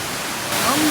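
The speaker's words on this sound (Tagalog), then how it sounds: "So, kuya, ito yung pinakamalaking falls." A large waterfall in Kalayaan, Laguna, in rainy weather, gives a steady, loud broadband rush, and a voice starts briefly near the end of the short stretch.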